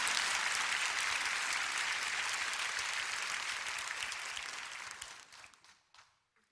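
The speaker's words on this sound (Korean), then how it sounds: "이때 박수를 쳐야 돼, 사실은" A church congregation breaks into applause during a Korean prayer meeting, a full, sustained patter of many hands that holds steady, then tapers and dies away into quiet.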